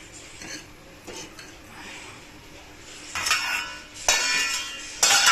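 A spoon stirs food in a hot pan, with quiet scraping followed by several louder bursts of metal scraping and clinking against the pan.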